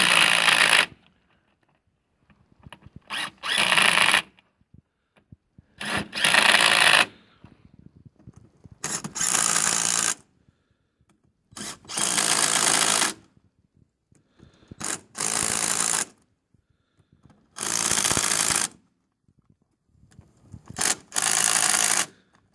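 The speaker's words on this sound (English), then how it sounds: "Greg is doing some tightening on these bolts" A power tool drives bolts on a Universal UTB 640 tractor axle flange, running in about nine sharp, loud bursts of a few seconds each, separated by near-silent pauses.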